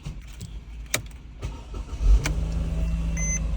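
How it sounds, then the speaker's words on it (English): A Mercedes-Benz GLK, model years 2007-2014, starts with its original key: a few soft clicks, a brief cranking surge, then the engine settles into a steady low idle nearby. "Original key, start the car, correct?"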